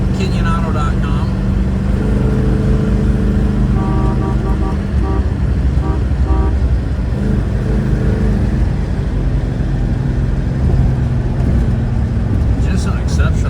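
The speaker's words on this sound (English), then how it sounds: "Drive this car down the road with 2 fingers." A 1961 Chevrolet Impala's fuel-injected 283 V8 hums steadily as the car drives along, with low road noise throughout and a voice talking over it.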